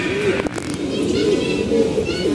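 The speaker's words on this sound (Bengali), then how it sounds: "কবুতরটা কিন্তু খুব সুন্দর একটা কবুতর" A pigeon coos in low, rolling phrases close by, partly under a man's speech, repeating its soft burbling call through the short stretch.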